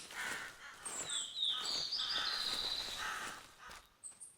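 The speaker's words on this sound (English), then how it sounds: "right now I'm hearing the crows a lot more than anything else." Crows calling in the hunting game theHunter Classic, heard across a game forest on an elk hunt: a run of harsh, overlapping bird calls at moderate distance, steady for several seconds and then fading, with no talk.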